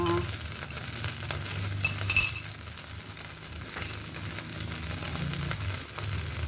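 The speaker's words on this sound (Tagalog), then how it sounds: "lagyan natin ang ating binatil na itlog" Beaten egg sizzles and fries steadily in a hot pan with sardines, a continuous close crackle with a brief clink of utensil against the pan partway through.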